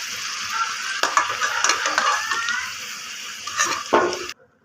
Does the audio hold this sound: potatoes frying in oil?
yes